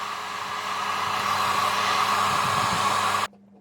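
A heat gun blows steadily at an iPhone 7 to loosen its parts, giving a continuous airy whir with a faint electric hum that cuts off abruptly near the end, leaving only low room noise.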